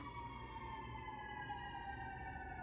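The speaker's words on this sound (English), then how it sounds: "Let the ambulance pass." A wailing ambulance siren sustains steady rising-and-falling tones throughout, loud and continuous with no talking over it.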